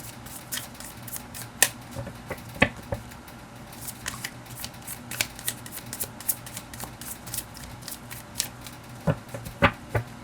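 Tarot cards riffle and shuffle in repeated bursts with sharp snaps, close up, continuing steadily with no talking.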